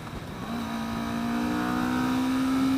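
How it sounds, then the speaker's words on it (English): A 2015 Kawasaki Vulcan S Extended Reach motorcycle engine revs steadily higher, its smooth rising drone loud and close and growing over nearly three seconds, with no talking. "This is an engine that likes to be revved out."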